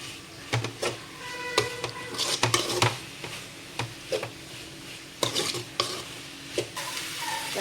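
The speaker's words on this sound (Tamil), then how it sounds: "இது எல்லாமே போட்டு நல்லா மிக்ஸ் பண்ணிக்கலாம்." Spices, curry leaves and egg for a banana flower egg podi are stirred in a metal frying pan, giving repeated scraping strokes and clinks over a light sizzle, close and without any talk.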